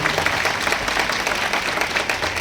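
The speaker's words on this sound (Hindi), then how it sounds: "आप एक बार जोरदार तालियां बजाकर भाई साहब का स्वागत कीजिए" A crowd applauding at a Hindu religious gathering at Gayatri Dham, Sendhwa, dense and steady clapping filling the whole moment at a loud, even level.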